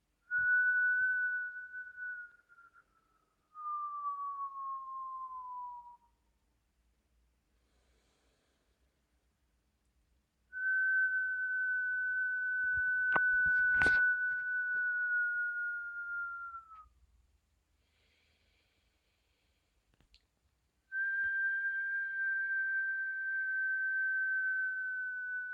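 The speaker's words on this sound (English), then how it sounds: "and then whistling through the mouth slowly." Three long, slow, steady whistles through the mouth, each a sustained tone separated by quiet pauses, close and clear.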